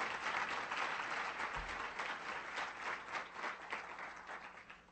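Sustained audience applause at a Colombian reintegration agency accountability event, dense steady clapping filling the hall throughout with little variation.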